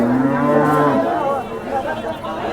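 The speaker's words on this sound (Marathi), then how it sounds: "गाय तुम्हाला फिरून दाखवत आहोत" A cow at a livestock market in Sangola lets out a loud, close moo with a falling pitch, followed by a busy crowd murmuring in the background.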